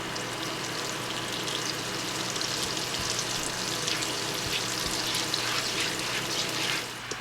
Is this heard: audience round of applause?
no